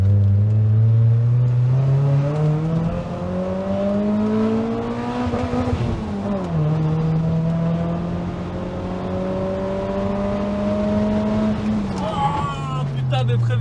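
A one-off sports car combining Toyota Celica, Supra and Honda Integra revs up through rising gears, drops briefly, climbs again, then winds down as it brakes hard; loud and close, heard from inside.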